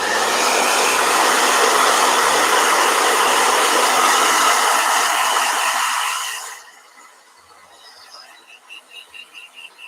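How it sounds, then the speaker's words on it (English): Hair dryer blowing over a watercolor painting, a loud steady rushing whoosh that cuts off after about six seconds and leaves faint rustling and soft pulses. "Let me just do one last blow dry."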